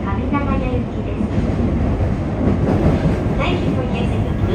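Yokohama Municipal Subway Blue Line 4000 series train (Mitsubishi hybrid SiC VVVF) running on a local service, a steady loud rumble of wheels and motor inside the car, with a brief higher whine near the end.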